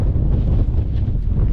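Strong wind buffets the microphone at a coastal campsite on Scotland's NC500, a loud, steady low roar with gusty rumble and no voices.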